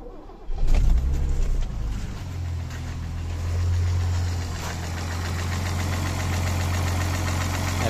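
A Mercedes M110 engine converted to fuel injection cranks over and catches, then settles into a steady, loud, slightly lumpy idle that runs close by and without a break, with no talking over it.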